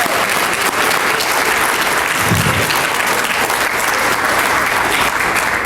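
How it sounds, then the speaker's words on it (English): Steady, dense applause from a banquet crowd honoring award winners at a community awards dinner, loud and continuous without a break. "Give them a nice round of applause"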